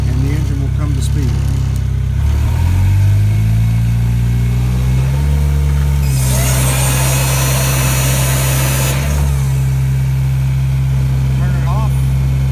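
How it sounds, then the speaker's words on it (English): A street sweeper machine starts up, its engine rising to speed as the brushes and vacuum fan kick in, producing a loud, steady mechanical roar with a whooshing fan surge midway, heard up close. "I push this button, the brushes are going to come on, the vacuum machine, the vacuum fan will start to run, and the engine will come to speed"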